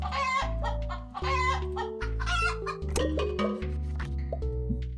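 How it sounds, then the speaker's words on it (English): Chickens cluck and squawk in the video game Crabtopia, short bursts of hen calls repeating over a steady low musical drone, fairly loud and with no talking. "I think chickens are the right play here. So let's grab the chickens."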